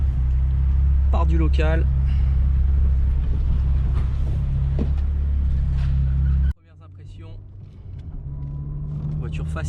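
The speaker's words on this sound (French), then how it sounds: "Celle-ci dispose d'un petit échappement sport, silencieux du moins, qu'on entend un petit peu ronronner" Peugeot 106 with a small sport silencer exhaust purring at a steady low drone while driving, heard from inside the car under continuous talk, the tone dropping sharply as the throttle lifts before building again.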